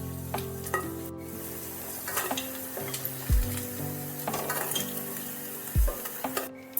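Fish kabab balls sizzle in hot oil in a pan, a steady crackling hiss punctuated by metallic clinks and a couple of heavier thuds from utensils, close and unaccompanied by talk.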